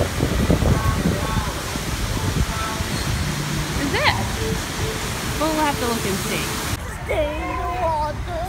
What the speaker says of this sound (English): Waterfall grotto over there